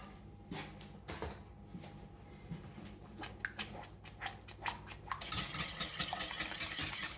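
A utensil stirring veal blanquette sauce in a pan over low heat, with soft scraping and clinking taps that grow busier, then a louder wet swishing rush near the end.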